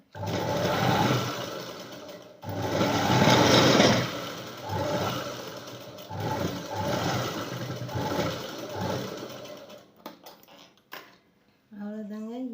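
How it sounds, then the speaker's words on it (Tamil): A sewing machine stitches the side seam of a blouse in loud, close, steady whirring runs with brief pauses. A voice begins speaking at the end. "ஈஸியாக நம்ம வந்து இப்போ ஸ்டிச் பண்ணியாச்சு"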